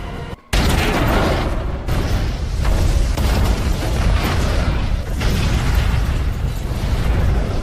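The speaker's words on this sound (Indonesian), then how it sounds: "Daeho meledakkan sebuah bom rakitan" A homemade bomb blows up in the film Commitment, a sudden deafening blast that rolls into a long, dense roar of rumbling debris and fire, sustained and loud throughout.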